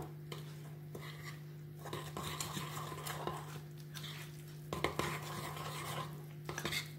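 A spoon stirs a SoShape powder mix with water in a bowl, soft scraping and light clinks of utensil on dish repeating unevenly at low volume, with no one talking.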